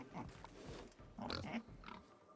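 A pig oinks and grunts in The Outer Worlds: several short snuffling grunts close up in uneven bursts, with a louder run of oinks near the middle and no talking.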